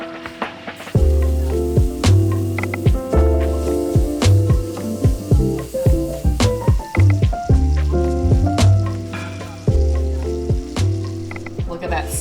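A steak sears in a hot pan, producing loud, continuous sizzling with rapid crackles and spits that pulse steadily throughout.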